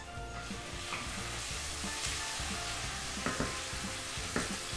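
Ginger garlic paste and green chillies fry in a hot pan with a steady close sizzle, punctuated by a few soft clicks of stirring and no talking.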